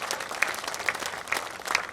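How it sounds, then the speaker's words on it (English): At a Coaches vs Cancer charity event, a crowd keeps up a steady round of applause, dense clapping that stays moderately loud for the whole moment. "A round of applause for all of you."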